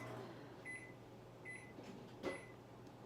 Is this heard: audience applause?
no